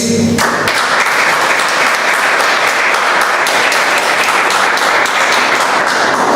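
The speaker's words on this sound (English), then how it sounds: "A bigger round of applause to everybody organized needs." After a short moment of other sound, a Toastmasters club audience in Bombay breaks into a loud, sustained round of applause that holds steady to the end.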